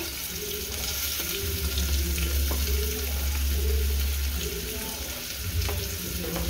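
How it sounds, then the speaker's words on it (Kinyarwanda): Onions fry in hot oil, making a continuous sizzle and crackle nearby, with a few soft clinks and scrapes from the pan. "Murabona ko amavuta yahiye. Ahangaha turabanza ibitunguru, ibyo tubanza gushyiramo."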